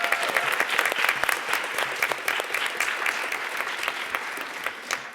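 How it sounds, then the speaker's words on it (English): Sustained, dense applause from an audience at an evening salon gathering, steady and full-bodied for several seconds with no talk over it. "Please, a round of applause for them."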